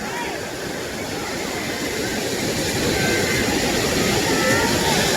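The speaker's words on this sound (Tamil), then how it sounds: "சில பக்கம் வாய்ஸ் எதுவும் இருக்காது தண்ணியோட சவுண்டு மட்டும்தான் இருக்கும்" Loud rushing water roars continuously at Kodiveri Dam, a dense broadband torrent spilling over the dam, steady and close with no breaks.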